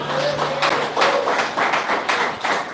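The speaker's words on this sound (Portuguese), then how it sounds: "aplauda ao Senhor" A church congregation claps in praise, with hands striking in a steady rhythmic beat of distinct bursts about three per second, fairly close and even in volume, with no voices over it.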